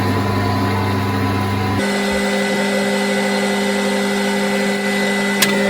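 A milling machine with a spot drill runs loud and continuous at top revs with a steady high whine that shifts pitch partway through, a brief tick near the end.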